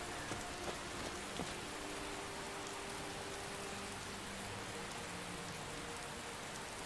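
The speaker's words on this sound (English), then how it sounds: "Enjoying the rain on the waters of Lake Ilinalta?" Steady rain patters across the waters of Lake Ilinalta in Skyrim, a dense, even hiss with no voices over it.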